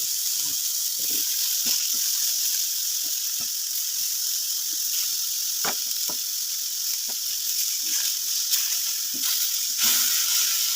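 Brinjal and tomato pieces frying in oil on a flat tawa after being flipped: a continuous close sizzle dotted with frequent small pops and crackles at an irregular rhythm.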